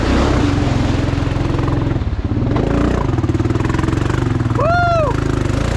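A lifted Honda Foreman 500 ATV engine runs loud and close in second gear with a steady, pulsing drone. A voice briefly whoops over it near the end.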